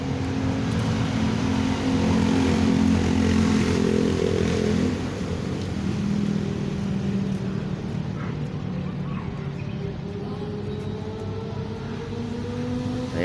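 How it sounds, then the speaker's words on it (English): A motorcycle engine idles and revs nearby on a street along Manila Bay, a steady low rumble that swells then settles, with traffic noise around it. "Yan yung naririnig nyo, no? Motor niya"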